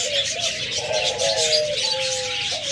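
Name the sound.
doves cooing in a cage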